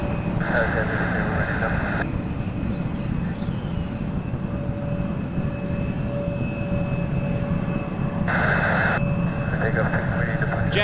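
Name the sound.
Jazz Embraer 175 airliner coming in to land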